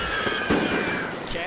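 Artillery shell blasts in the World War I strategy game The Great War, with Russian Empire forces shelling enemy lancers: a short burst of sharp, crackling booms up close, lasting just over a second, while a voice talks over them.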